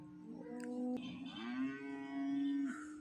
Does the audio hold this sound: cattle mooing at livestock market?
yes